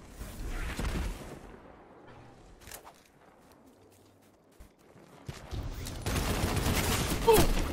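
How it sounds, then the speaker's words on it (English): Rapid bursts of heavy machine gun fire in the sci-fi shooter Destiny, loud and close, with a dense rattling volley at the start and another sustained burst near the end. "Heavy machine gun."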